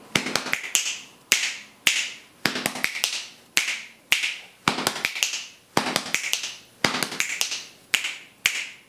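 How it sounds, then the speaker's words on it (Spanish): Students in a body percussion class snap their fingers together in a slow, even rhythm, sharp crisp clicks grouped in regular bursts repeating about once a second, close and clear with no talking. "Y para terminar, un cruce de chasquidos más"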